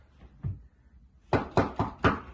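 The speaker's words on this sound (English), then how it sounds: "Oh, wonder who's at the door." Knocking on a door: one or two soft taps, a pause, then four firm, evenly spaced raps, close and clear in a quiet room.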